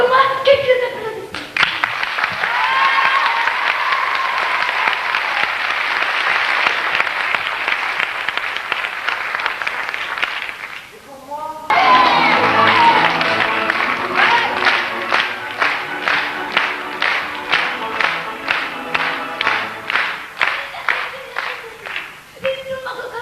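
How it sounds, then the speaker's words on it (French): An audience breaks into hearty applause, a dense wash of clapping that pauses briefly and then resumes, thinning into distinct, rhythmic claps as it tapers off. "Et pour moi, quelques applaudissements."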